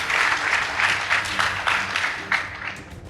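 Applause from a school debate audience for the Wanjohi Mixed Secondary School team, a steady dense patter of many hands clapping with a few louder accents, sustained throughout.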